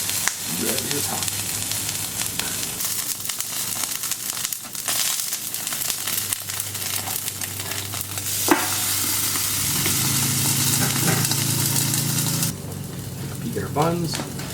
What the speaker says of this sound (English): Let's go ahead and start browning our brats.